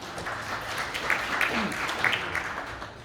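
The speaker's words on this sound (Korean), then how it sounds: "큰 박수로 맞이해 주시기 바랍니다." A conference audience at an OT and ICS security event claps to welcome a speaker, producing a short, dense burst of steady applause from a seated room.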